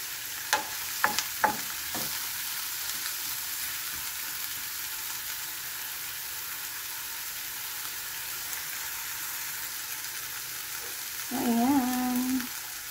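Fish sarciado cooks in a pan on a stove with a constant soft sizzle, a few sharp clinks early on, and a short tonal whine toward the end.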